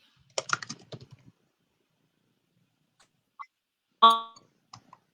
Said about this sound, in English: Don't type if you're typing.